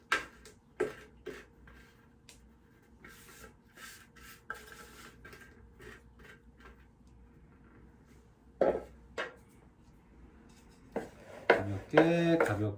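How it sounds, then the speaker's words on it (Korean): Wet dough is worked into flour for a cookie pie, with scraping, rubbing and tapping of a utensil against a bowl in irregular bursts, close and fairly quiet, louder clatters near the end. "자, 이렇게 완성된 반죽을 가루에 넣어서 이제 하나의 반죽으로 만들어 볼게요."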